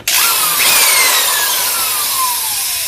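Makita drill spinning a bit locked in its chuck, with no electric brake: a loud, sustained whirring whine that starts abruptly and slowly drops in pitch as it winds down.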